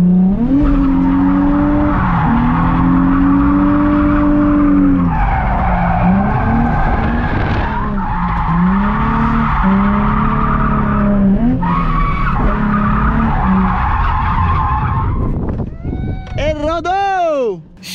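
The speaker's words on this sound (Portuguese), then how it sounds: "Chega que o pneu não aguenta mais não, Léo." A car drifting during a day of practice, with loud, sustained tire squeal that wavers in pitch over roaring engine noise for most of the run, then rising shrill screeches near the end.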